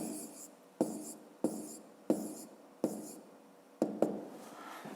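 Handwriting numbers on paper during a grade 5 maths exercise: six distinct pen strokes or taps at roughly even intervals, close and crisp, with soft scratching between them and no talk.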